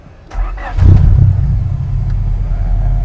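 A Honda Civic Estilo SR3 with a swapped engine turns over and catches, then revs up loudly and settles into a deep, rumbling idle close by.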